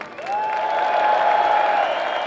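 Loud crowd noise at a live concert for a tribute band at an outdoor summer theater, with cheering and clapping under a long held whistle-like tone, dense and sustained throughout.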